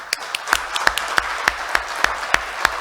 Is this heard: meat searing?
no